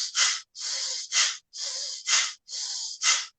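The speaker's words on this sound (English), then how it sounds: "In Bhastrika, we are inhaling and exhaling forcefully." Bhastrika breathing: forceful nasal inhales and exhales alternating in a steady, fast rhythm, about seven strong breaths, close and loud with no talk.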